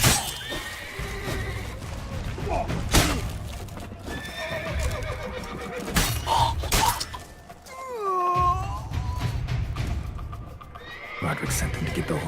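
Horses neigh and whinny amid clip-clopping hooves and scattered impacts, with bustling commotion throughout, in the video game The Witcher 3: Blood and Wine.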